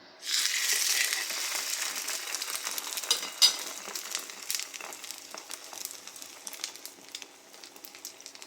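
Cheese-filled French toast bread fries in a pan, a bright, steady sizzle that starts abruptly and continues with soft crackles and small stirring clicks, fading slightly toward the end.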